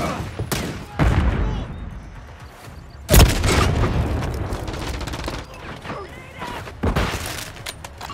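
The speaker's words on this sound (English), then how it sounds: "Grenade!" A grenade blast booms in Call of Duty Modern Warfare III, multiplayer Hardpoint on the Estate map, alongside sharp bursts of gunfire and thumping impacts, loud and close amid the steady battle din.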